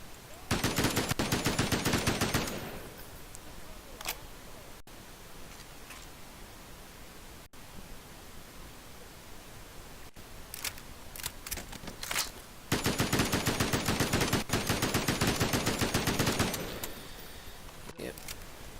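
Two long bursts of rapid automatic fire from the Herc, a short-barrelled SMG in a video game, one at the start and one near the end. Quieter, sparser noise fills the stretch between them.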